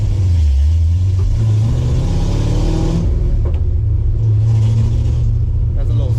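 A Foxbody Mustang accelerates hard with a rumbling, rising engine note, then the revs fall away and the engine stumbles briefly as it misses, all close and loud with some talk over it.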